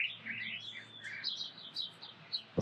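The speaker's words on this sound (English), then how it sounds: "Oh, beautiful blue bird here." Small birds chirp and tweet in a sunny desert garden among citrus and subtropical fruit trees, quick high twittering calls overlapping at a modest distance with no talking.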